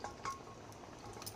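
Boiled bottle gourd greens tipped into a cooking pan, giving a quiet wet slosh and soft splashes with a faint clink of metal, close by and with no talking.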